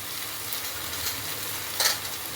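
Chili powder hitting ginger and garlic already fried in oil gives a steady, low sizzle. A short, brighter burst of frying noise rises near the end. There is no talk.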